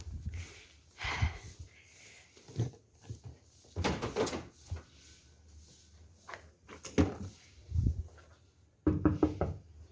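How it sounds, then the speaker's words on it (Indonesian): Knuckles knock on the door of a notary's office, several separate raps and bumps spread across the stretch with quiet gaps and faint room noise between. "Kita ketok dulu ya."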